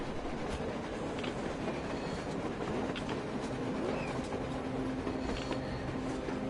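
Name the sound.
train passing on the surface, from a video game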